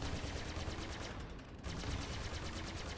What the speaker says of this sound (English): got a good cyclic rate on those guns